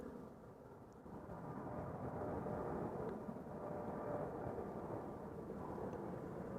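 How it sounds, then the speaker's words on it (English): A steady, loud jet engine roar fills the air continuously, a broad rumbling wash of noise from a plane departing Amsterdam Schiphol Airport nearby. "The sound you're picking up mostly is the departing airplane just behind me."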